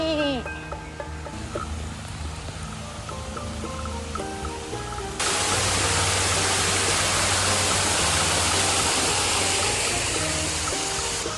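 A small waterfall in a rock garden with orchids, cactus and ferns at a botanical garden resort gives a steady rushing hiss, loud and close in the second half, after someone talks over quieter water.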